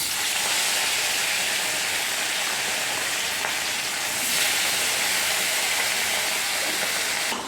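Rohu fish pieces frying in hot oil in a kadai give a steady, loud, dense sizzle that holds evenly from start to finish, with no voices.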